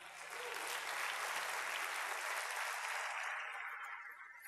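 A church congregation gives a strong round of applause during a Wednesday teaching service, a dense wash of clapping that holds steady and slowly tapers, somewhat distant.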